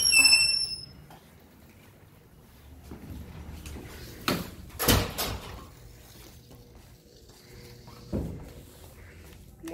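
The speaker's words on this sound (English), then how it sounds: "tap your dragon card and then the door is open" A door opens after a card is tapped at the entrance: a brief electronic beep at the start, then quiet, followed by sharp clunks and rattling bangs from the door mechanism, with another thud later.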